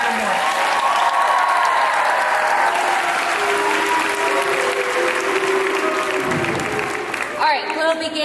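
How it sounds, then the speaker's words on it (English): A large audience at an awards ceremony claps loudly and continuously, the dense applause holding steady throughout, with some voices mixed in. "Let's give one more round of applause"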